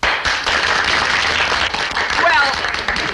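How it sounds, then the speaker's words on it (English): Audience applause at a patriotic gathering, dense and steady throughout, with voices talking over it. "another round of applause for Private Gillis"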